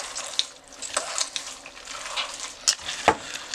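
Ground meat for buffalo meatballs squelches and squishes as it is mixed by hand in a bowl, a stream of soft, wet, irregular slaps and smacks at close range.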